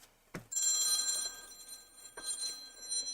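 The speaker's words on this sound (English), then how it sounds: "My phone is ringing." A phone ringing in a room, with a sharp onset followed by electronic ring tones, a pause, then a second ring, moderately faint.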